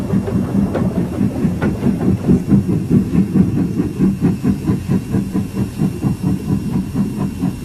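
Hunslet 0-6-0 saddle tank steam locomotive from 1958 hauling wagons on an ironstone railway toward an ore-crushing plant, steady rhythmic chuffing with hiss and rumble, loud and close throughout, no voices.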